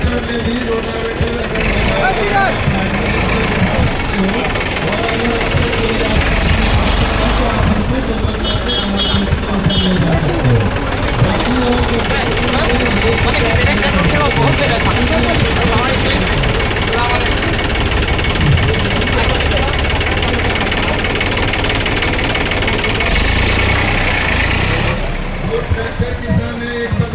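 A tractor with a rotavator fitted works a field: a loud, continuous engine rumble mixed with steady mechanical clatter, with voices talking over it throughout.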